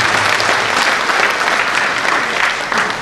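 Audience applause at a professional association's annual day event in Odisha, a dense steady burst of clapping from a crowd lasting a few seconds.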